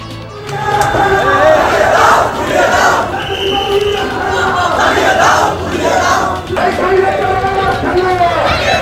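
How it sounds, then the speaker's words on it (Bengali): Crowd of students at an anti-discrimination protest in Bangladesh chanting slogans in loud, rhythmic waves of massed voices, one phrase after another, close and dense. "4 দফা দাবিতে বিক্ষোভ।"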